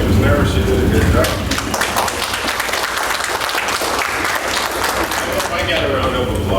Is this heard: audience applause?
yes